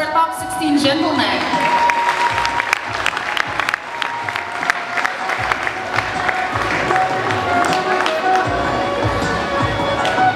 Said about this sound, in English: How about a round of applause for our top 16 gentlemen?